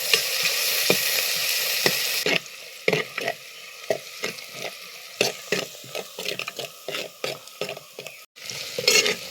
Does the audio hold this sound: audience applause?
no